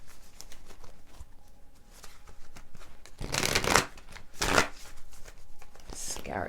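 A tarot deck is shuffled and cut close by, with soft card rustling and two louder riffling bursts, under steady talking.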